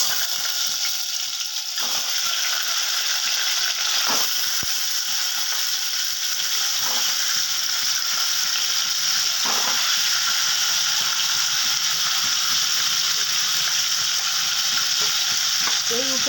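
Eggs fry in hot oil in a wok for an egg curry, giving a loud, steady sizzle and crackle throughout, with occasional clicks of stirring.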